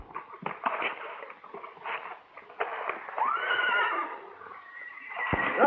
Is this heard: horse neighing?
yes